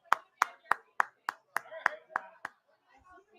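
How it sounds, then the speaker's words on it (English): Nine crisp hand claps in a steady, evenly spaced rhythm from a small group or a single person on a live sports talk show, close and clear, then quiet with faint low sounds. "Round of applause for the beige guy and his quarterback."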